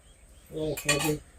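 A spoon stirs vegetables in a metal pot for vaghareli khichdi, a brief pair of ringing clinks and scrapes, close and fairly loud.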